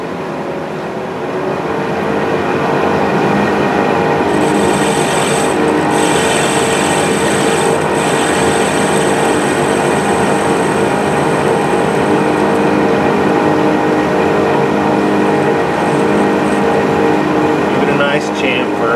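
A milling machine faces off the bandsaw-cut end of a vise handle with a loud, continuous grinding whir and motor drone, while a thin high tone appears briefly midway.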